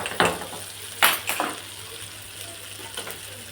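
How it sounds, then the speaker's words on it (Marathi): Hot water splashes and pours into a pan of cooking vegetables in a few short bursts over a steady background hum, close by and fairly loud at first, then settling. "गरम पाणी टाकलं."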